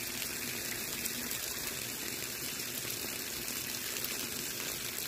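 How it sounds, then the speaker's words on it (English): Water gushes steadily through the heater core of a 1997–2001 Jeep Cherokee XJ during a cooling system flush, making a constant, fairly faint hiss that runs unbroken with no one speaking. "this is all you have to do to flush a heater core, really, is just keep going back and forth with it like this"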